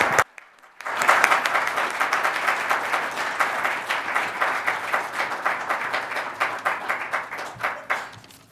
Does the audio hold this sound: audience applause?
yes